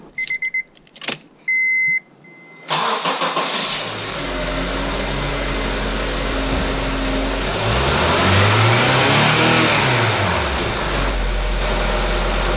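A 2005 Honda CR-V with fresh spark plugs cranks and starts after a few key-on chimes, then idles steadily before a couple of loud revs rise and fall.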